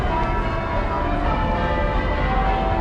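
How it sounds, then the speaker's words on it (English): Loud, continuous ringing of large church bells in London, Westminster Abbey and Big Ben, overlapping tones blending into a dense, sustained peal. "I think the Westminster Abbey bells are actually outdoing Big Ben"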